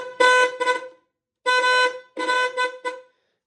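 A car horn wired to a ground blares in several short bursts, near and loud, with silent gaps between the honks.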